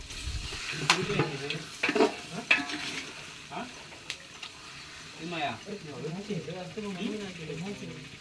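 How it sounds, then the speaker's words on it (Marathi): Chicken frying in a pan while being stirred, a soft sizzle with scraping strokes, under someone talking over it. "ढवळ मस्तपैकी"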